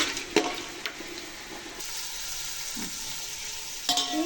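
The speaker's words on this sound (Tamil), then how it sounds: "இங்கே பாருங்கள், வெங்காயம், குடமிளகா எல்லாம் போட்டிருக்கேன். நல்லா வதங்கட்டும்." Chopped onion and capsicum with whole spices sauté in oil in a pan as they brown, giving a steady close sizzle broken by a few sharp stirring scrapes and clinks.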